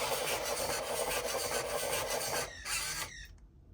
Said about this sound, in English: I guess revving sounds and this lightning bolt